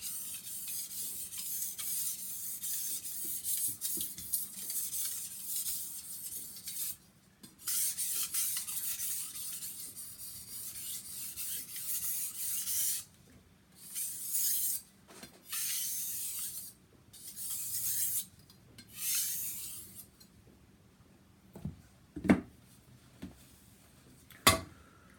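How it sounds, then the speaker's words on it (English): A kitchen knife is drawn over a 1000 grit whetstone in light, quick passes: soft hissing scrapes arriving in short separate strokes with quiet gaps, close, with a couple of small clicks near the end. "Then back on the 1000 grit stone, just for a couple quick passes, just to really clean this edge."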